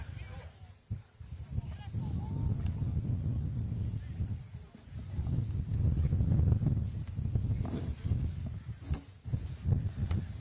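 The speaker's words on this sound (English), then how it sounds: "big gust of wind coming, almost knocked me over here" Strong gusts of wind roar across the microphone at an outdoor high school football game in Kohala, a loud, sustained low rumble that swells and buffets throughout while a commentator talks over it.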